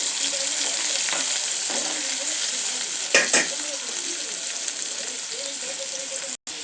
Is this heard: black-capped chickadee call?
no